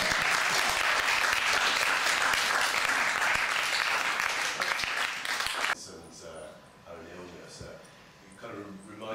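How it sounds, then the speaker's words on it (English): Audience applause after a talk on Philip K. Dick, a full, steady burst of clapping for nearly six seconds that stops sharply, followed by a quieter stretch with a voice speaking. "Or you can clap if you want."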